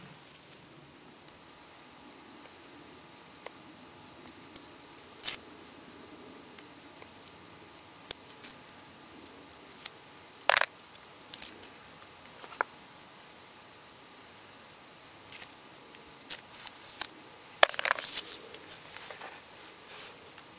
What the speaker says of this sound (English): the first thing I have to do is peel the wrappers off of my crayons